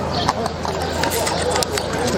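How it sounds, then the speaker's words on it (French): A horse trots at a horse festival in Bagnols, its hooves making a fairly regular clip-clop at moderate distance while people talk over the scene. "Au trot s'il vous plaît."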